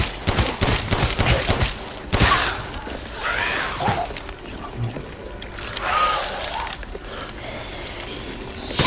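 Gunfire in the Resident Evil Village video game, repeated bursts of shots over several seconds with loud impacts and crashes, and a player's voice talking at moments.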